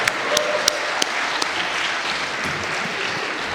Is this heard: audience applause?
yes